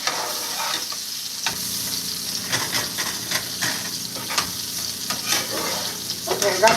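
Peppers and onions fry in a pan for a breakfast scramble, with a steady loud sizzle and crackle throughout, punctuated by occasional scraping stir strokes and light clinks.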